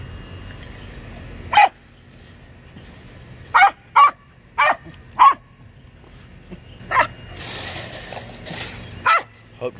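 A puppy barking in short, sharp yips and barks, about seven spaced bursts close to the microphone over a quiet background, with a little faint movement noise between them.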